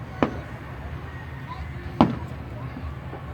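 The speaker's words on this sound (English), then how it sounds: "Ooh, that one was a big explosion." Two sharp fireworks bursts at an outdoor display, each a sudden distant boom with a quick decay, separated by a couple of seconds of low crowd murmur and ambient noise.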